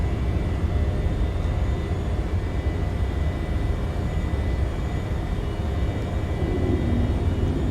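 Embraer E190 freighter jet climbing after takeoff in a flight simulator game, a steady broadband engine roar with deep low rumble, constant and loud, no voices over it.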